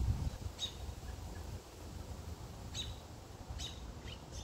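Agitated robins call as they dive-bomb a kestrel feeding on a young robin in a street, with a few quick sharp chirps scattered in pairs over steady low background noise.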